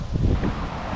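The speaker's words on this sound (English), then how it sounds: "A little windy." Wind buffets the microphone on a private island in Florida, a steady low rumbling gust with faint rustling and no voices.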